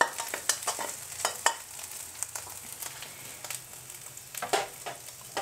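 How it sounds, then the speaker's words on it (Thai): Ready-made Thai curry paste stir-fried in a pan for an earthstar mushroom curry, with a soft steady sizzle broken by frequent scraping clicks of a utensil, fairly quiet and without voices. "พริกแกงอันนี้ใหม่ก็ซื้อมาแบบสำเร็จนะคะเพื่อความสะดวกผัดให้หอมเลยค่ะ"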